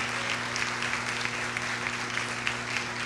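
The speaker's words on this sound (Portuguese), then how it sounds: "Vamos aplaudir a elas em nome de Jesus." A church congregation claps steadily and evenly for a few seconds, moderately loud with a faint electrical hum running beneath the applause.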